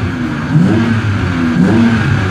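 A car fitted with a Windbooster throttle module, switched to race mode, accelerates hard. The engine note swells and climbs steadily and stays loud and close throughout.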